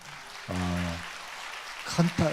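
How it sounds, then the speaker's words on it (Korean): A church congregation applauds the choir after a hymn, a steady spread of clapping running beneath a voice that talks and sustains a tone over it. "우리 박수로 우리 격려하겠습니다"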